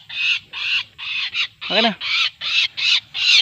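A captured wild bird, called kabadyaw, gives a series of about nine harsh, evenly spaced squawking calls, loud and close, with a brief lower voice sound in the middle and people talking around it.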